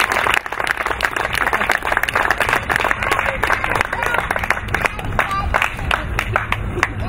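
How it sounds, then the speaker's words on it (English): A crowd gives a round of applause at a farm sustainability talk, dense clapping sustained throughout at close range, with some voices mixed in. "So if you guys could give them an awesome round of applause."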